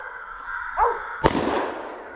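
A single shotgun blast fires during spring coastal crow hunting, a sharp close crack with a rolling tail, preceded by a faint bird call.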